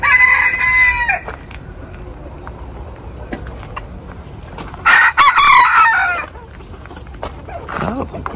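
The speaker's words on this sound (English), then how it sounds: "we got some roosters happening over here" Free-running roosters crow loudly nearby at a French brocante market, one at the start and another in the middle, with softer clucking and faint background noise between calls.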